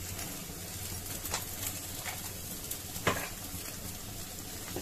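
Okra pieces frying in a pan for a vendakkai dish, a soft, steady sizzle with occasional light scraping and stirring knocks, fairly quiet and close, with no voices.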